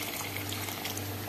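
A small amount of water pours steadily into a pot of arroz caldo, a brief soft splashing trickle heard up close with no voices.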